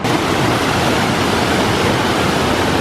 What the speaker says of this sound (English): So this is the upper falls